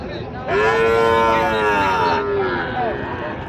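A cow at a cattle market in Raniganj, Dinajpur, gives a long, loud, drawn-out moo near the microphone, followed by a shorter lowing call, over a steady murmur of market crowd noise.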